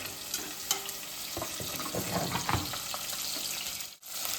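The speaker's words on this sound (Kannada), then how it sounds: "ಈರುಳ್ಳಿ ಜೊತೆಗೆ ಹಸಿಮೆಣಸಿನ್ಕಾಯಿ ಹಾಕೊಂಡು ಸ್ವಲ್ಪ ಟೀಮಲ್ಲಿ ಸ್ವಲ್ಪ ಬ್ರೌನ್ ಆಗೋ ತನಕ ರೋಸ್ಟ್ ಮಾಡ್ಕೊಂಡು" Onions and green chillies sizzle steadily in a pan while cooking for chicken biryani, a continuous close frying hiss with a few soft clinks and scrapes and no talking.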